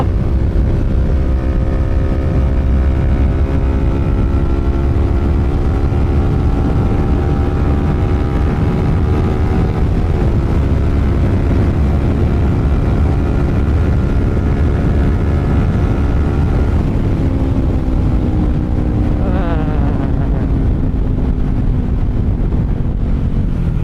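A big motorcycle running fast on an expressway, a loud continuous engine drone under heavy wind roar, its pitch holding steady and then easing slightly lower, with no talking.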